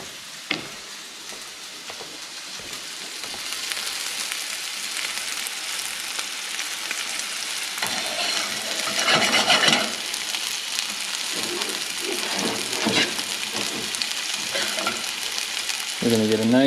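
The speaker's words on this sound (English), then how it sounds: "take the steak, drop it away from you. Immediately turn the heat up." Steak searing in butter in a hot pan, with a steady broadband sizzle and crackle that swells partway through, close and continuous, with brief clatter at the start and a short tonal note near the end.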